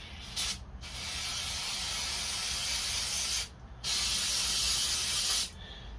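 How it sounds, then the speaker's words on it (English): Carb cleaner sprays onto the screen of a Homelite carburetor in two long, loud hissing bursts separated by a brief pause. "I'll use a little carb clean just to make sure that we clean off the"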